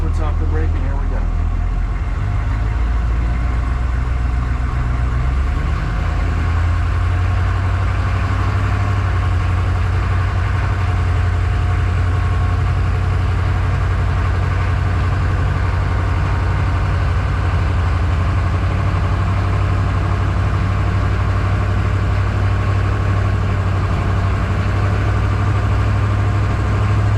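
1993 AM General Humvee engine running at idle, a loud steady low rumble that holds throughout, close by, with speech likely underneath.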